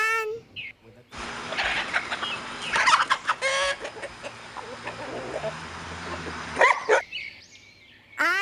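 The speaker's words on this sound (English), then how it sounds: "H for hen." A hen clucks and cackles in a busy farmyard with other fowl and a dog nearby. The calls are loud and overlapping, coming in uneven bursts.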